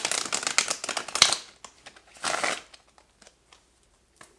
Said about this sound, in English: I'm gonna shuffle off camera